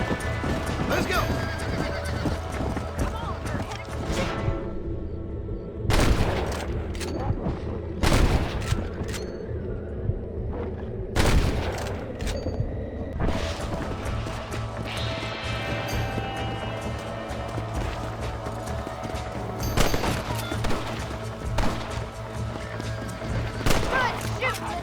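Gunfire in the Red Dead Redemption video game, several sharp shots ringing out amid galloping hooves, neighing horses and music, with voices shouting over the action.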